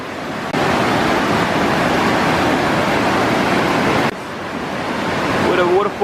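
Waterfall in New Zealand's Bay of Plenty with converging streams: steady, loud broadband rush of falling water close by, briefly dropping and swelling again near the end, with a faint voice at the close.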